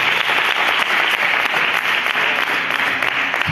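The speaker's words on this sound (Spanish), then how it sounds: "Dale un aplauso fuerte al Espíritu Santo" A church congregation applauds during a service, dense and loud continuous clapping from many hands that fills the room for several seconds.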